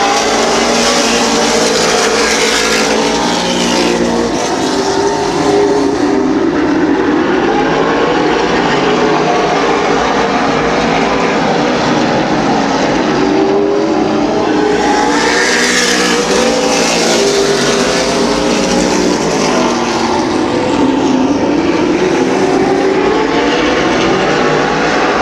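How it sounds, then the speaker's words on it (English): Race cars at Midvale Speedway roar past in a continuous loud engine drone for the whole stretch, with the pitch rising and falling as the pack passes and no talk over it. "Caution lights are out, we're going back to racing."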